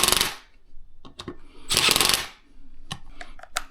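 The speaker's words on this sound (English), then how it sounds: "Then we're going to take our 1/4" impact, put it in the lowest setting, and tighten these down in a crisscross pattern." A 1/4 inch impact driver on its lowest setting tightens beadlock wheel bolts. Two longer rattling hammer bursts alternate with several short, sharp taps, close and loud.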